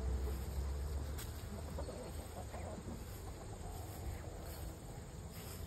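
Chickens cluck and chirp faintly outdoors in a rural yard, soft scattered calls set against a constant hum of insects and low background noise.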